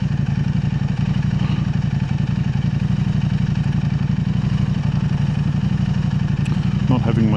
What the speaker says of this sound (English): I'm just recording the sound of the the exhaust